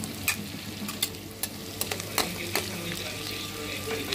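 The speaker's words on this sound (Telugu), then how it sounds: "ఇవన్నీ వేసి బాగా ఫ్రై చేసుకోవాలా." Onions, green chillies and curry leaves sizzle steadily in hot oil in a home kitchen pan, with soft clicks from a stirring utensil breaking through the close, low frying hiss.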